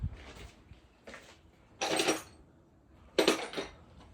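A metal socket for a BMW oil filter on a 2018 X5 is picked up and handled, giving a few separate clinks and rattles of metal, two of them louder and sharper, with quiet gaps between.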